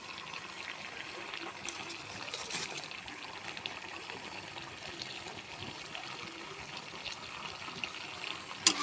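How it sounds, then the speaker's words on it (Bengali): Water poured into a pan of simmering chicken curry on a new home clay stove, a soft steady trickling splash that runs quietly throughout with a few faint clinks. "তেল বেরোলেই এইবার জল দিয়ে দেবো"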